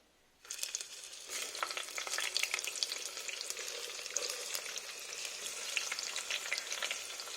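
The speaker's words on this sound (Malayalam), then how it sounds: "ഓയിൽ ഇപ്പൊ നമ്മുടെ എണ്ണ നന്നായിട്ട് ചൂടായിട്ടുണ്ട്. ഇനി നമുക്ക് ഈ കട്ട് ചെയ്ത് വെച്ചിട്ടുള്ള വാട്ടർമെലൺ ഇതിലേക്ക് ആഡ് ചെയ്ത് കൊടുക്കാം." Cut watermelon pieces dropped into hot oil in a frying pan, bursting into a loud, crackling sizzle that starts abruptly and continues steadily up close, with no voices.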